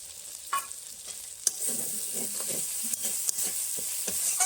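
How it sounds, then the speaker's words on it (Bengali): Spice paste with green peas sautéed and stirred in a pan for a river fish curry, a steady sizzle with scraping spatula strokes at irregular intervals, close and moderately loud, no voices. "মশলা কষাতে কষাতে দিয়ে দিচ্ছি কিছুটা মটরশুঁটি।"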